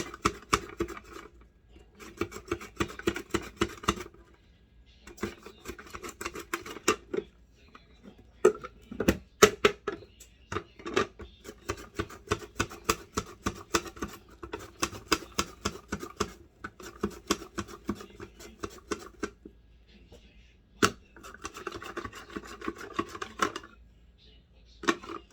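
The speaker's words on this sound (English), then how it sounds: "so here's 2 big cucumbers. See how fast they slice perfectly?" A knife slicing two big cucumbers thin for a cucumber and onion salad, crisp rapid cutting strokes in quick bursts separated by brief pauses, close and clear, with a little talking at times.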